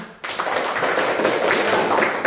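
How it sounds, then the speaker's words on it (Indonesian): Classroom applause for a student group after its presentation: a dense, steady wash of many hands clapping starts abruptly and holds at an even, loud level for about two seconds. "kita berikan aplaus untuk kelompok 1 yang telah mempresentasikan hasil kerja kelompoknya"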